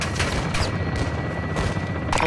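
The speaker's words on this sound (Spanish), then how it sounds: "Disparos alimentados por cinta debajo de la torre" Bursts of rapid belt-fed machine gun fire crackle repeatedly against a dense background of distant booms in Modern Warfare 2, like a sustained firefight.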